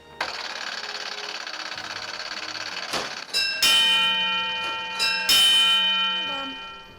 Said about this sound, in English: The bells ring to alert the firefighters, while the tape register tells the fire department which firebox went off.